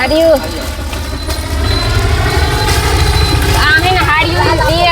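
A train at a railway station rumbles with a steady, continuous roar of wheels and carriages. Horn-like tones sweep in and out near the middle and the end, and voices are mixed into the busy station sound.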